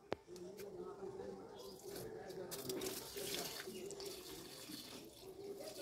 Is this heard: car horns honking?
no